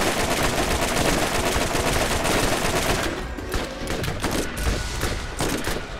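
Rapid, dense automatic gunfire from the video game Borderlands, loud and continuous with no pauses, briefly thinning partway through before resuming at full intensity.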